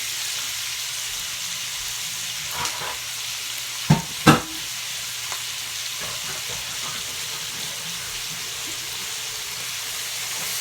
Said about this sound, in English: So get these sauteed up a little bit.